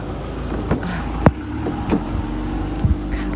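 A car passes on a street, a steady close engine hum with a few sharp knocks and clicks along the way, and no one talks.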